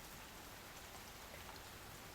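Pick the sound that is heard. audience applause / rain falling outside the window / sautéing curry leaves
rain falling outside the window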